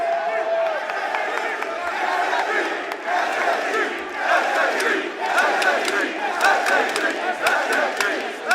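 A large crowd at a Rainbow Six Siege esports major final cheers and roars continuously, with shouts and chants rising over the mass of voices.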